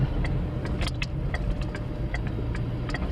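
A car on a driving-lesson route pulls into a parking spot on the right, its engine running steadily at low speed with faint clicks and rattles over a constant road rumble.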